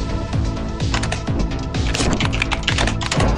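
Rapid clattering keystrokes on a computer keyboard while playing Lethal Company, an irregular burst of close, sharp clicks with brief pauses, continuing throughout.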